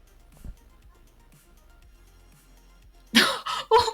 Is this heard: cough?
yes